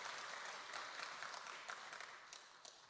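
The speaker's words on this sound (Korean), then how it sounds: "우리 다 같이 박수로" A congregation at a Wednesday church service applauds a women's mission group, a soft, steady wash of many hands that fades slightly toward the end, with no talking over it.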